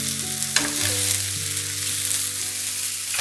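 Onions, tomatoes and bell peppers sauté in a pan for a gola kabab dish, giving a steady close sizzle with a low hum and a brief clink near the start, no voices.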